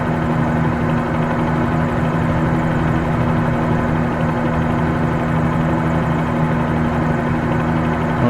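Steady, loud helicopter engine and rotor drone from Microsoft Flight Simulator 2020 during a flight toward Key West, holding an even low hum with strong tonal bands and no breaks or voices.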